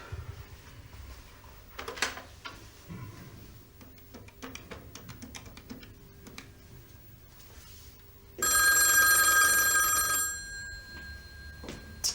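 A telephone rings in a Turkish home, the loud electronic bell starting abruptly after quiet room sounds and door or drawer clatter, ringing steadily for about two seconds before fading.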